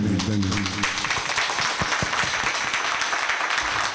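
Audience applause at an award ceremony held by a charitable trust after a speech ends, a dense wash of clapping that starts under a brief voice and keeps going steadily at moderate level.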